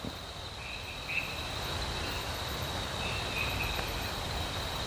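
Crickets and other insects chirp in a dense, steady chorus at night in Cangar forest, a constant high-pitched shrill with a few brief, sharper calls rising above it.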